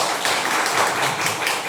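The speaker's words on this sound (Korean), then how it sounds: "박수 부탁드립니다" A lecture audience applauds steadily, a dense patter of many hands clapping at moderate volume throughout.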